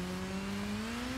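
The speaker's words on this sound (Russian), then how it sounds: "Что ревет мотор." A motorcycle engine in the video game Gotham Knights drones steadily with a slowly rising pitch, a brief continuous hum with no voices.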